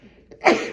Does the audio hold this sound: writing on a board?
no